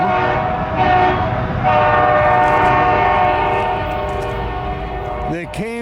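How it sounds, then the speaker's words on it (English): Five CSX freight locomotives in Folkston, Georgia, idle with a loud, steady diesel drone under faint talk, then a train horn sounds in short, wavering blasts at the very end. "They came up with a full train and unhooked the locomotives."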